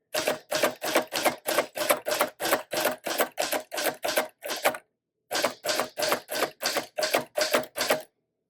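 Rapid, evenly spaced clacks of manual typewriter keys, close and crisp, with a brief pause midway before the typing resumes.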